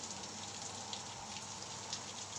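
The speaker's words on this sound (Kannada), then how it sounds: "ಮಳೆ ಎಷ್ಟು ಜೋರು ಬರ್ತಿತ್ತು, ಇವಾಗ ಸ್ವಲ್ಪ ಕಮ್ಮಿ ಆಗಿದೆ" Rain easing off after a heavy downpour, a faint, steady patter of drops on surfaces outdoors with no voices.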